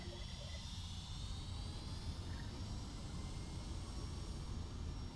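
Rolls-Royce-engined Boeing 757 spooling up in X-Plane 11 at Los Angeles, a steady broadband jet roar with a rising high whine, continuous and fairly loud throughout.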